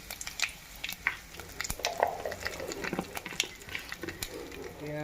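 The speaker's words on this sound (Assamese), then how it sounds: "তেল গৰম হৈ গ'ল এতিয়া জিৰা অলপ দিম তেজপাত এড কৰিম" Cumin seeds and bay leaf sizzling in hot cooking oil, a crackling fry broken by sharp pops and spoon stirring against the pan, moderately close and fairly quiet.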